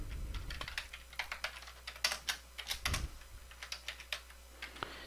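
Typing on a computer keyboard, a quick irregular run of close, crisp key clicks continuing steadily for about five seconds with no voice.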